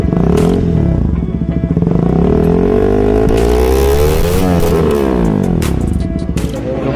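A KTM Duke 200 motorcycle fitted with an Austin Racing full-system exhaust revs loudly up close, a deep throbbing idle climbing and falling through repeated throttle blips, with no talk.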